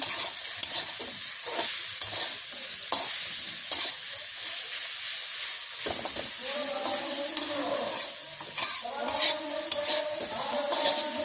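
Red amaranth greens stirred in a pan with mustard oil, a steady close sizzle broken by scraping stir strokes, louder clattering passes toward the end, no talking.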